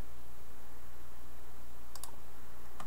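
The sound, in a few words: mouse clicks pressing a Flash button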